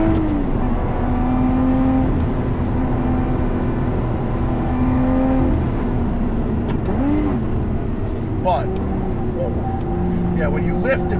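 A Lotus Evora GT sports car lapping a race track, its engine droning steadily with rising and falling pitch through gear changes, underneath continuous close talking from the driver.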